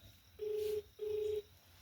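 Two short electronic telephone dialing tones sound close and clear, evenly spaced over a quiet background.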